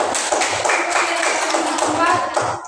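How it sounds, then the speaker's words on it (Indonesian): Students in a classroom applaud a presenting group, giving a short burst of dense, close hand clapping that fades out after a few seconds. "Kita beri tepuk tangan untuk kelompok 3."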